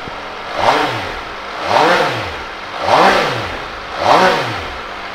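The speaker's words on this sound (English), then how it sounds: "which I'll give a start up for you because it sounds mega" A 2019 MV Agusta Dragster 800 motorcycle with a three-pipe exhaust revs four times, close up and loud. Each rev rises and falls evenly about a second apart, and no one speaks.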